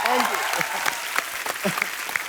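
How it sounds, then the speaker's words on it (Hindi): A studio audience at a comedy talk show bursts into loud applause, many hands clapping close and full while a voice talks briefly over the crowd. "जोरदार तालियां सिद्धू साहब के लिए।"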